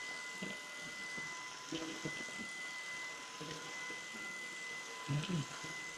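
Shark and Miele vacuum cleaners running on low-pile carpet, a steady high whine with a tonal hum, faint and continuous, with brief scraping bumps as the head is pushed and pulled.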